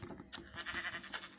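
Sheep bleating in Minecraft, several short wavering bleats repeating in quick succession, close and fairly clear over faint game background.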